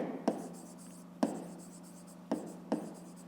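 Pen strokes on paper as numbers are written out by hand for a school maths exercise, with four distinct short scratchy strokes spread across a few seconds, quiet and close.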